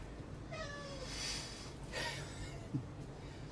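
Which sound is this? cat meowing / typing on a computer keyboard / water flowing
cat meowing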